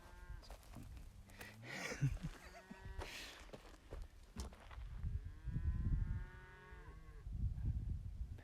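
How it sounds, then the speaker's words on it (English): A loose cow lows several times, drawn-out moos rising and falling over a low rumbling background, fairly close and clear with no talk. "There's a cow got loose up there."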